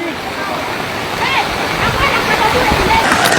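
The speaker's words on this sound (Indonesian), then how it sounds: "Derasnya debit air sungai menyebabkan tanggul-tanggul yang sudah dinormalisasi kembali jebol hingga meluap ke jalan-jalan dan permukiman warga." Swollen river water rushes through breached embankments and spills toward streets and homes after heavy rain, a steady, dense roar of flowing water with splashing, and a voice talking over it.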